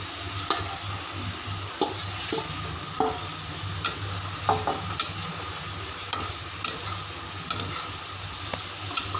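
Soybean chunks and potato stir-fried in spice paste for a home lunch: a steady sizzle punctuated by regular sharp clacks of a spatula against the pan roughly every second, close and clear, with no voices.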